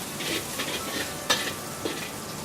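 Garlic stir-fries in a pan with a steady close sizzle, broken by a few scraping strokes of the spatula and one brief sharp clack.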